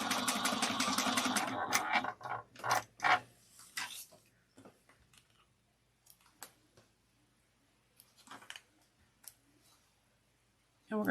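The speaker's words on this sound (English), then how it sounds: "we're going to top stitch this on just the bottom pocket at 1/8 of an inch from the pocket" A sewing machine top stitches a leather wallet pocket one-eighth inch from the edge, running loudly for about two seconds, then short bursts and scattered clicks follow, growing quieter and sparse.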